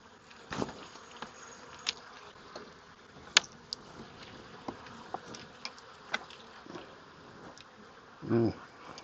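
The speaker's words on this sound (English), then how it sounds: "So lots of bees there." Honeybees drone steadily inside an opened wooden hive at a home bee yard during an inspection, a close, even buzz broken by scattered clicks and knocks and one brief low thump near the end.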